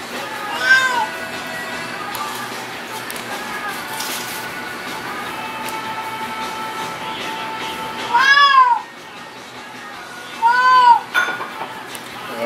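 A cat meows a few times, short rising cries that stand out over a quiet indoor background, with a person talking softly in between.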